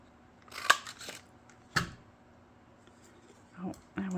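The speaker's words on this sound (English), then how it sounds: "I'm going to pull out my Creative Memories cutter, and that way I'll get a straight cut on that." A Creative Memories paper cutter trims scrapbook paper, a few sharp close clicks and slicing snaps spread out over several seconds, faint and quiet in a still room with no talk.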